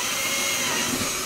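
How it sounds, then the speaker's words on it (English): Power drill boring a pilot hole in a home workshop, a steady high-pitched whirring whine held evenly at close range with no talk. "So we just drilled the pilot hole"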